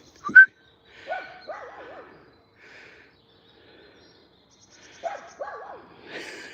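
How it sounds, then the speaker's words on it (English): A dog barks during an outdoor dog walk in two short bursts of quick, yelping barks separated by a quiet pause, fairly distant, with a sharp knock at the start. "I don't even know what he's barking at."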